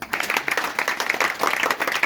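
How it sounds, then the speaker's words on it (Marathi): A school audience claps in a brisk, continuous burst of many hands, close and fairly loud for about two seconds with no one talking. "यांच्याही शाळेसाठी एकदा टाळ्या वाजवा."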